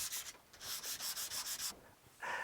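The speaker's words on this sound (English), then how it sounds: "I just need to take these marks away with a little bit of 240 grit" A sanding block with 240 grit sandpaper rubbing across the wooden back of an acoustic guitar, eight or so quick, even back-and-forth strokes, soft and close, with no talking.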